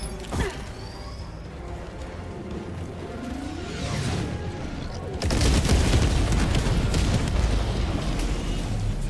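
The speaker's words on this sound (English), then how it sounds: "that's where I'm gonna throw my last airstrike" An airstrike in Helldivers 2 against Automaton bots: mechanical creaking and whirring, then midway a sudden loud booming rumble of explosions that continues to the end.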